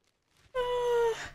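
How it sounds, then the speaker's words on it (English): A single long, drawn-out yawn rises from a breathy intake into a voiced, wavering moan that fades out, close and alone, about a second long. "Oh my gosh, I can't stop yawning."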